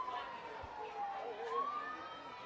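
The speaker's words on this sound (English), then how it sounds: "as the sirens move past" Emergency sirens pass beyond center field at a state semi-final high school softball game, their faint, wavering wail drifting far off beneath a commentator's voice.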